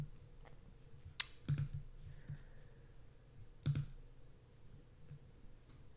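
Computer mouse clicking while working through Dubsado workflow settings, a few sharp, isolated clicks spaced irregularly over a quiet background, close and faint with no talking.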